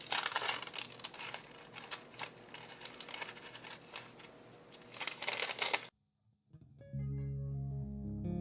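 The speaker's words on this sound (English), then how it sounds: "so now I'm just going to cut it out." Scissors cut through dried art journal paper with dense, crisp snipping and rustling for several seconds, close to the ear. After a brief silence, steady background music takes over.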